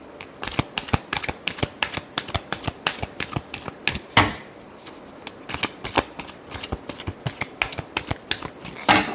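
Tarot cards shuffled by hand in a steady run of crisp, rapid riffling clicks, close and fairly loud, with one brief louder burst midway and no talking.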